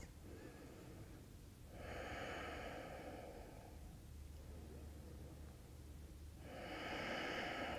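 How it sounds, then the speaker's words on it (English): Slow, deep breaths during yoga, long airy inhales and exhales alternating at close range, steady and unhurried over a quiet background. "2 more full breaths."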